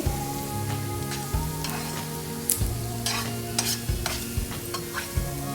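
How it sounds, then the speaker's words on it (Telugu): Onion egg gravy paste stirred in a sizzling frying pan, with a steady scraping rhythm of spoon strokes over a constant close frying hiss and no talking. "ఇలా ఈవెన్ కలుపుకోవాలి ఈ పేస్ట్ కాడని కొంచెం అడుగంటినట్టు అవుతుంది"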